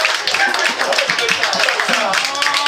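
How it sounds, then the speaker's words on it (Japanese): Crowd clapping for the MC at a Japanese rap battle event, distinct, fairly close hand claps in an uneven rhythm, with a person talking over them. "ボスにも大きな拍手をください"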